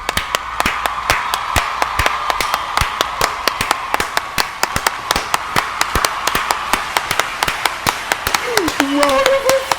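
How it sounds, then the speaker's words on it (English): Close, crisp hand claps ring out in a quick, steady rhythm, one sharp clap after another, as a gaming stream reaches its finale; a voice speaks briefly near the end. "Round of applause!"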